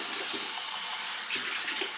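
Water poured into a cooking pan while preparing a Thanksgiving meal, a continuous soft splashing pour with a few small gurgles, moderately close with no talk.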